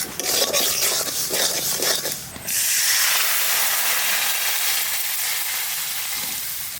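Water is poured into a pan of fried hilsa fish head, setting off a loud crackling sizzle that gives way after a couple of seconds to a steady, strong hiss of steam.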